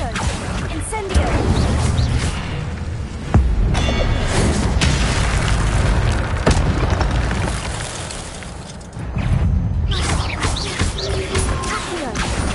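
Incendio fire spells cast again and again during combat against guards in the video game Hogwarts Legacy, loud booming blasts and whooshes layered over dense, continuous game action and effects.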